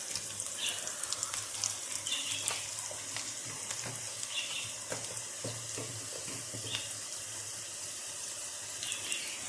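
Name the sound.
green beans (sheem) frying with spices in oil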